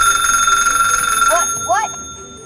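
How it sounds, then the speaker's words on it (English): A cartoon telephone rings loudly with a steady electronic trill, then cuts off, followed by a couple of short warbling chirps as the call begins. "My phone's ringing."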